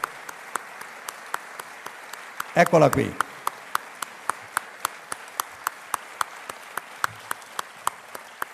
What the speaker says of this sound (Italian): A lei io chiedo un applauso